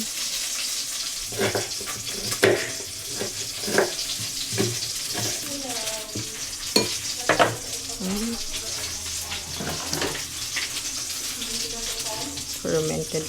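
Onions frying in a pan in a home kitchen, a steady broad sizzle running throughout with occasional clicks and stirring scrapes, and a voice speaking briefly over it.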